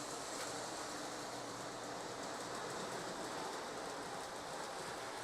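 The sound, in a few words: Lionel O gauge model train running on layout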